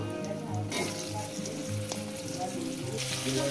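Potatoes fry with whole cumin seeds in hot oil for a rohu fish curry with ridge gourd. An even, continuous sizzle holds close throughout, with a few light stirring knocks.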